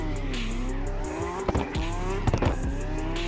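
Drifting car in the video game CarX Drift Racing Online spinning through 360 and reverse 360 entries, engine droning steadily while tires squeal and skid in sharp bursts, loud and close with no voices.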